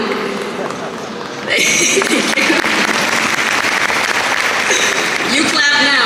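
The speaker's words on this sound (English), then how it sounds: "You clap now" An audience at a speaking event with an American actress and producer breaks into loud, dense clapping partway through, a bright wash of hands that keeps going over a speaker's voice.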